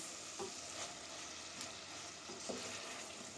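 Kavurma meat sizzles and fries steadily in a covered pot, a soft continuous crackle with a few faint stirring knocks, heard alone without voices.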